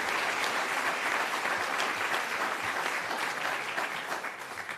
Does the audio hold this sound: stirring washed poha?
no